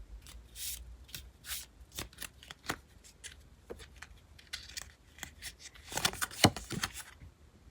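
Oracle cards being shuffled for a tarot reading make a series of quick, close riffling and sliding card sounds, ending in a denser flurry of shuffling.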